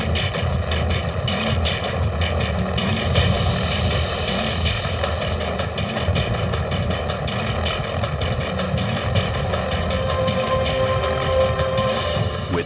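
Rescue helicopters fly over a blazing fire, their rotors and turbines making a loud, continuous thrumming roar. The chopping pulse holds steady throughout with no pause.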